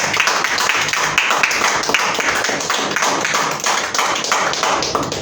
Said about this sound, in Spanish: Le damos con un fuerte aplauso al Señor la bienvenida a nuestro pastor esta mañana